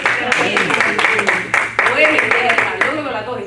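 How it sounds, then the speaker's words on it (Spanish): A church gathering gives a round of applause, with crisp individual claps rising out of a busy room while a voice keeps talking over them. "Denme un aplauso ahí a Silent"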